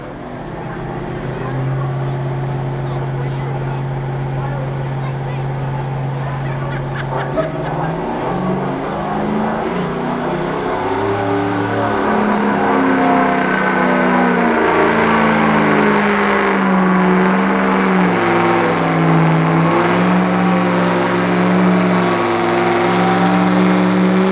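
A pulling truck at a truck pull event revs its engine hard, climbing and holding in loud, rough, close roars that rise and fall through the run, with an announcer talking over it early on.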